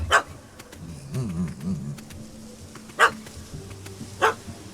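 A puppy barks in The Witcher 3 after chasing a cat up a tree, several short sharp yips spaced apart over a low rumbling game ambience.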